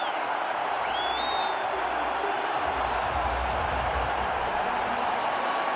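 Cricket crowd at an India vs Pakistan World Cup match roars and cheers in a steady, loud wash of noise after a Virat Kohli shot, with a few whistles rising above it.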